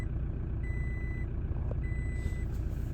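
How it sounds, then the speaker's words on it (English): Seatbelt warning chime in a Toyota Hilux, two steady electronic beeps repeating over a low engine rumble inside the cab. "Sorry for the beeping, I've not got my seatbelt on in the Hilux."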